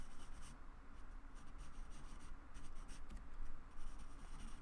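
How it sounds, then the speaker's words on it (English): Pencil on paper roughly sketches the lines of joints, making a soft, steady scratching with short quick strokes. It is faint and close, with no talking. "I'm just gonna very roughly draw all these joints."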